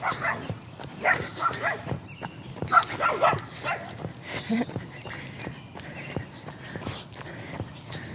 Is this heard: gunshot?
no